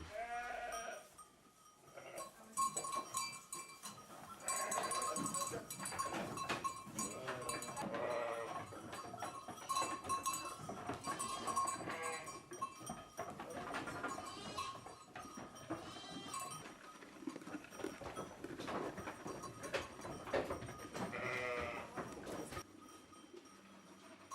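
A flock of ewes on a farm bleats continuously, many overlapping calls near and far over a steady farmyard background, with no talk.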